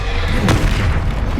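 A Bombarda blasting spell explodes in Hogwarts Legacy, one loud, close boom with a sharp burst and rumbling low end that fills the short moment.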